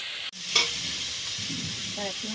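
Leafy greens frying in oil in a pan as fried chili is added and stirred, giving a steady close sizzle with a brief utensil clatter. A voice speaks faintly near the end.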